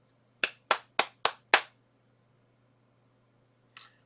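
Five sharp, close hand claps in quick succession mark the end of a semester's class, followed by silence and one faint soft noise.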